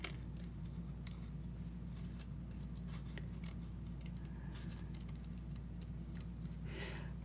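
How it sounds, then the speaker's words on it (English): Scissors snip steadily through cardstock while fussy cutting a stamped image for a handmade card, a close, quiet run of small cuts over a constant low background hum. "do some fussy cutting"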